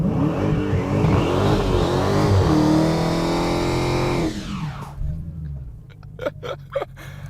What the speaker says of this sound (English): got to warm the tires up. That, by the way, is with the traction control on. But this car also has line lock.